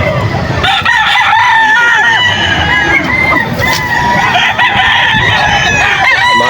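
Roosters and young stag gamecocks at a busy Bocaue, Bulacan poultry market crow loudly and repeatedly, with overlapping calls and clucks over a constant crowd babble.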